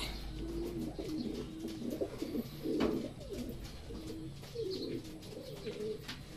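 Racing pigeons coo repeatedly in low, throaty bursts at their loft, fairly close, with a soft background hum and no talking.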